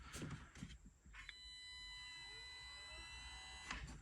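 An electric car fuel pump running, producing a faint, steady high-pitched tonal whine with a few brief clicks and knocks before and after.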